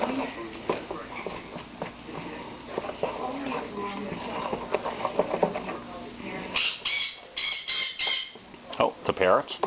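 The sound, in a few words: parrots squawking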